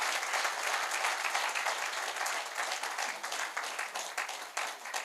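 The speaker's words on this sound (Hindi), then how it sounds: "मंजू दीदी के लिए एक बार मिलकर पूरा सदन तालियां उठाए" Full-hall applause at a memorial lecture series honoring someone speaker, a dense, even clapping wash with no voices above it.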